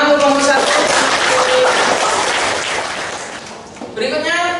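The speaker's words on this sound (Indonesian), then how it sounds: "Tepuk tangan untuk kelompok 1." A classroom audience at a school claps for a presenting group, a dense burst of applause that fades toward the end, then a voice speaks briefly.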